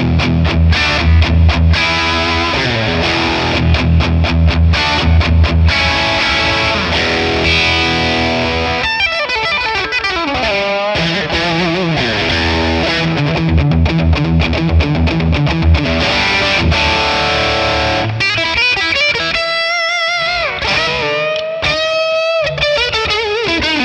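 A Telecaster electric guitar runs through a Friedman Plex DI tone model with no reverb, loud overdriven chords and riffs chugging rhythmically, then breaking into single-note lead lines near the end, with no voice.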